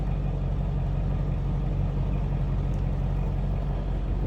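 A 2019 Chevrolet Camaro 2SS convertible V8 idles at a steady, low rumble, constant and moderately loud throughout, with no speech.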